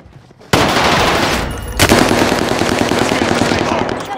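Sustained automatic gunfire in Call of Duty Warzone on the Rebirth Island map, a dense loud rattle of rapid shots starting abruptly and continuing with a sharp burst midway, with no talk.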